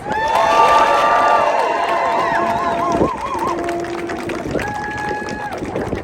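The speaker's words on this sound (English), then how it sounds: "let's give these folks a huge round of applause." A rally crowd at the Rhode Island State House applauds and cheers for volunteers, with sustained dense clapping and rising, warbling whoops and whistles over the roar, loud and close, then easing slightly toward the end.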